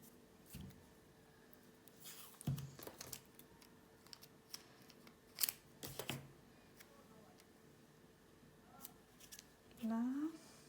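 Scissors cut out paper shapes for a geometric greeting card, a few brief close snips and paper rustles spaced apart amid quiet handling sounds.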